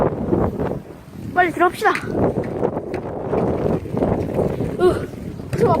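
Strong wind gusting outdoors around an apartment neighborhood, buffeting the microphone in rough bursts under anxious talking.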